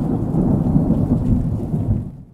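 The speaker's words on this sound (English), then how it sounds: "Oh, it's dark. It's raining." Loud, deep rumbling thunder rolls over heavy rain in a thunderstorm, then fades away at the end.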